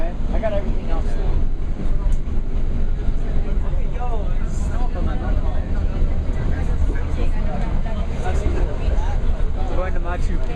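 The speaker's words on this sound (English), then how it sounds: "we're on a train" A train carriage on the way to Machu Picchu rumbles steadily with low continuous rolling noise throughout, while people talk over it close by.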